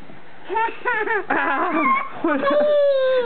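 A dog whimpers and yips in a string of high, wavering whines, close by and insistent, with brief pauses between cries.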